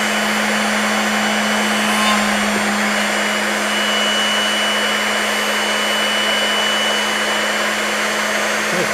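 A drill bit sharpener grinds a drill bit in a workshop, giving a steady, unbroken motorized whir and hum at close range for the whole stretch, with no talking.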